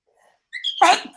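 A single human sneeze bursts out after a short sharp inhale, loud and close, ending abruptly with no talk around it.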